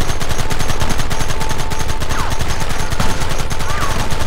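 Rapid gunfire in the Red Dead Redemption video game, a dense, loud, continuous volley of shots with a faint ricochet-like whine now and then.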